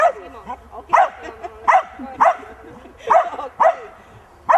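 Simo the dog barks in sharp, loud bursts, about seven close barks in an uneven rhythm, with some whimpery yips between them.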